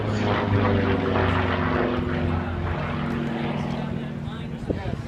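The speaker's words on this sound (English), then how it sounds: "Knife edge up there right now, rolling the airplane the other direction, continuing a series of aileron rolls." A propeller-driven aerobatic airplane flies a series of aileron rolls at an airshow, its engine droning steadily and loudly with a sustained tonal hum that eases slightly toward the end.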